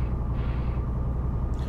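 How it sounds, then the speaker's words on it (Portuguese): A Scania truck's engine in The Road Driver driving game gives a steady, deep rumble that hums continuously while the truck rolls downhill, with no talking over it. "E olha o ronco dessa Scania"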